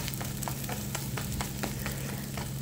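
A folded taco shell with cheese cooking in olive oil, a steady close sizzle and crackle of frying with a low hum underneath, continuous and moderately loud.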